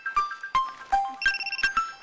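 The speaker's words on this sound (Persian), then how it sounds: "شمبل جانی گوشی زنگ بارگه" A phone rings with a bright electronic ringtone, a series of quick sharp chiming notes in an uneven repeating pattern, loud and close, with no voices.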